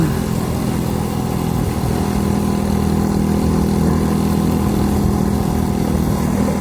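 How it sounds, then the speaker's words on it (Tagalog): A motorcycle carrying two riders pushes through water, its engine droning steadily and loudly up close, strained and unbroken, with no voices over it. "Ay, tubig, dinaandar ng motor."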